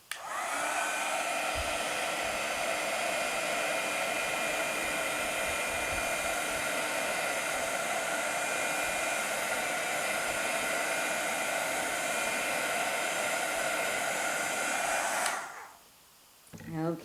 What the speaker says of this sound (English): I'll put this well away from the heat tool and then heat set this